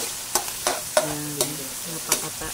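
Chopped garlic tossed onto onions in a hot frying pan sizzles continuously while a spatula scrapes and stirs in several distinct strokes, close and moderately loud with no talking.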